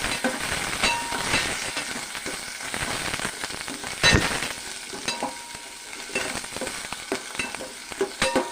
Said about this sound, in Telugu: ఉల్లిపాయలు వేయాలండి, బాగా వేయాలి.